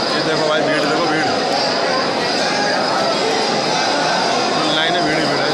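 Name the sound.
crowd at Khatu Shyam temple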